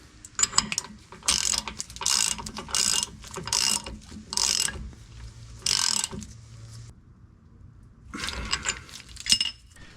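A ratchet with a 1.5-inch socket tightens a plug on an aFe Power differential cover on a 2015+ Chevy Colorado, giving repeated close bursts of rapid clicking strokes separated by short pauses.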